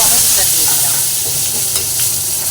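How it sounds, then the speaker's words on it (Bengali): Whole garam masala spices fry together loudly in hot oil: black pepper, cinnamon, cloves and cumin seeds. The sizzle is a dense, close, constant crackle with no break. "গরম মশলা গোলমরিচ আর দারচিনি লবঙ্গ গোলমরিচের মধ্যে একটু দিয়ে দেবো আর সাদা জিরে সবই একসঙ্গে ভাজা হচ্ছে"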